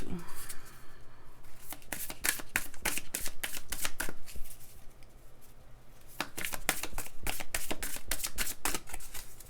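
Oracle cards being shuffled by hand, a quick run of crisp riffling flutters and snaps that pauses midway and then resumes, close and fairly loud, with faint background hum.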